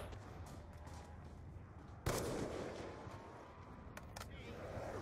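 Gunfire from the video game Die Rise: one loud sharp shot, then a couple of quicker cracks later, over a steady game background with faint talk.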